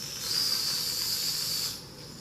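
A sharp, steady hiss of escaping steam bursts out for about a second and a half, loud and close, then cuts off, from a Weeden 14 toy steam engine being fired up.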